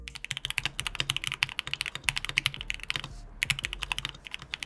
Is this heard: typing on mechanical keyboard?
yes